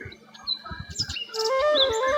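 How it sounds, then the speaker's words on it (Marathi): A sparrow chirps and tweets in quick, bright bursts, near and fairly loud, after a few low thumps at the start. "बघू शकता ही चिमणी."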